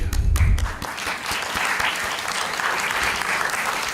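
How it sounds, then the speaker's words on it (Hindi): Audience applause at an international media event during a keynote, a loud, dense round of clapping from a large crowd that starts with a heavy thump and then holds steady for several seconds. "अपने लिए ताली बजाइए।"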